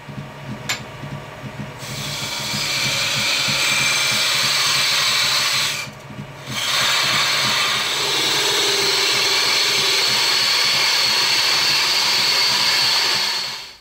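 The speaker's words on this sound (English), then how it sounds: "we're just going to give ourselves some room to work there with our parting tool" A lathe parting tool bites into spinning wood with a steady, loud scraping whine, briefly pausing midway, then resuming and cutting continuously.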